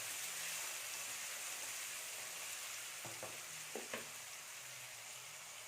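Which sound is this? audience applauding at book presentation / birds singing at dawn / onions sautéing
onions sautéing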